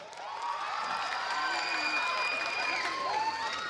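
Youth-night crowd clapping and whooping during a loudness game, a continuous moderate burst of applause with shouted voices mixed through it.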